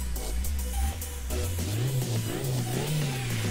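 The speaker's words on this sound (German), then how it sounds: "machen wir mal auch Motor an" An Audi S4 automatic engine starts and idles in the driving game City Car Driving, then settles into a steady mid-pitched hum with small rises in revs and some faint music behind it.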